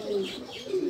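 Racing pigeons in a loft give a low, soft, continuous cooing, close and steady with no talk over it.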